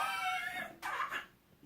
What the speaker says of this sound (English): Another quick cough.